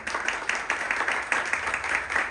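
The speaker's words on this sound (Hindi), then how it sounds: "क्या हम प्रभु को ताली बजाएंगे?" A church congregation claps together in a steady, rhythmic beat of repeated bursts during a worship service, moderately loud and fairly close.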